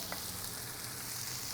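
Chorizo and onions fry in a pan on a grill, giving a steady, even sizzle and crackle with no talking.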